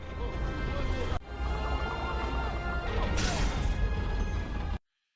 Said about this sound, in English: he shatters the handcuffs in the cell holding him